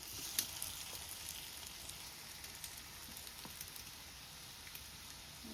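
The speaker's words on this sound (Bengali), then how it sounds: "ভাজবো।" Pitha rice cakes frying in a pan of hot oil, a faint, steady sizzle with small crackling pops throughout and no talking.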